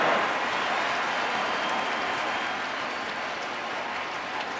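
A large stadium crowd at the 2023 ALCS Game 1 between the Rangers and Astros, roaring and clapping in a steady, loud wash of cheering that slowly eases over several seconds, with no commentary over it.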